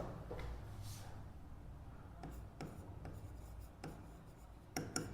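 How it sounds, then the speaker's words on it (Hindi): Pen scratching across paper as someone writes, soft rubbing strokes with a few light taps and clicks, faint and close in a quiet room. "इसको याद रखने का तरीका मैं लिख देता हूं"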